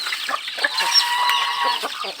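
Flock of chickens being called to feed, a dense chorus of overlapping clucks and squawks, close and continuous, with a person's voice briefly mixed in.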